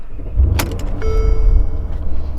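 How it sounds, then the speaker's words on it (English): A 2018 Mercedes-Benz GLS63 AMG is started with a twist of the key: a sharp click, then a brief whirring whine as the engine catches and settles into a low, close rumble. "In order to start the car, you just stick the key in here and you twist it."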